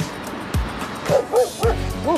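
A few close, sharp dog barks and yips, spaced irregularly over a short stretch with a low rumble underneath.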